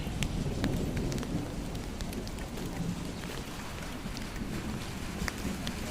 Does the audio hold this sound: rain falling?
yes